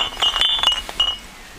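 Glass waste being sorted, with a few bright clinks and knocks of bottles and jars striking each other in quick succession, close by and loud, then fading into quiet.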